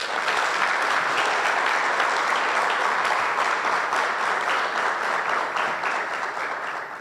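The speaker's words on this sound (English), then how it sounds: "Please, join me in applauding this momentous step forward." An audience at a nursing professionals' orientation ceremony applauds in a dense, sustained wash of clapping that holds steady and fades slightly toward the end.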